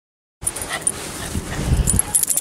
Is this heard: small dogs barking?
yes